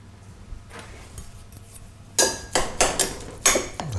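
A spoon mixing chilled turkey mince stuffing in a bowl, with a quiet start followed by several sharp scraping clinks against the bowl in an uneven rhythm, close and without talk.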